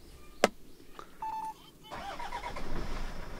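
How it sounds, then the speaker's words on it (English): A 2001 Toyota Land Cruiser Prado with a manual gearbox and turbo diesel engine gives a click and a short dashboard chime, then cranks and catches into a rough diesel idle that grows steadily, heard close up. "Normally you have to put the clutch in order to start it"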